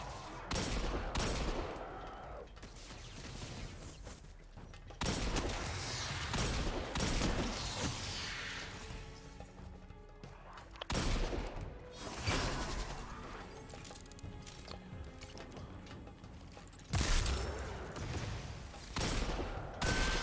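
Weapon fire in the shooter game Destiny 2 rattles in repeated bursts and single shots over a busy layer of game effects, moderately loud and continuous.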